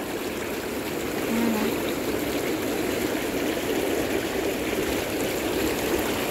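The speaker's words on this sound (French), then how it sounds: "vous appuyez sur le bouton des bulles juste ici et ça lance les remous" A hot tub's bubble jets switched on, giving a steady, loud broadband rush of churning water that holds evenly throughout without pause.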